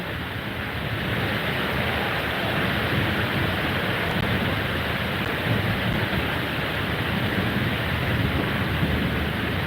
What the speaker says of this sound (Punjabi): ਸੀਚੇਵਾਲ ਦੇ ਵਿੱਚ ਮੀਂਹ ਬਹੁਤ ਤੇਜ਼ ਆ